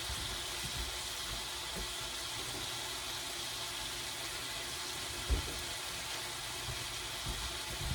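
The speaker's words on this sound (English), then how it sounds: "And then I'm just going to get some water in this can." Tap water runs steadily into an emptied soup can at a stovetop while cooking noodles, a continuous moderate hiss with a single brief clunk midway and no talking.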